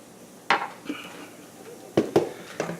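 A flour and beef bouillon powder mixture is stirred in a pan for biscuit gravy, giving sharp metallic scrapes and clinks of a utensil against the pan in separate bursts, close and fairly loud.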